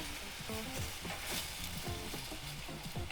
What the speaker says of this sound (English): You want to go ahead and stir it around.